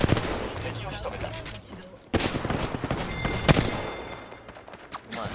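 Automatic gunfire from an Apex Legends match crackles in dense bursts, with a brief gap midway before the shooting resumes, mixed with game sounds and occasional character voice lines.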